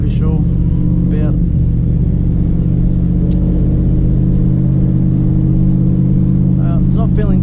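A 1978 Plymouth Volare engine runs at a steady idle, with a loud, continuous low rumble throughout and a voice talking over it.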